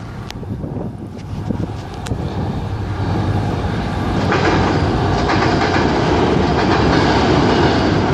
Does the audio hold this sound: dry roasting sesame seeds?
no